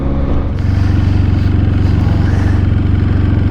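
A Honda CB750F motorcycle fitted with an RLS exhaust idles and runs steadily nearby, a loud, even rhythmic engine throb with no talking.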